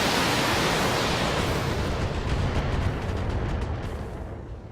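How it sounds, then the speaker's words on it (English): A salvo of LRM missiles in Battletech launching and slamming into a target, heard as a dense, roaring wash of noise that stays loud and slowly fades out. "I love watching my LRMs fire."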